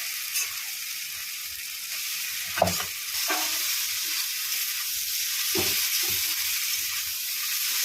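Scrambled egg pieces sizzle steadily in a hot pan for an egg bhuna, with occasional scrapes and clacks of a spatula stirring them through the oil.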